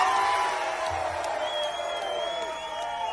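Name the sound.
protest crowd cheering in a cheer vote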